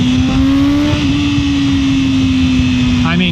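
A 2024 BMW M1000R M Competition motorcycle pulls hard at high revs, its engine holding a loud, steady, high-pitched howl with wind rush close by throughout.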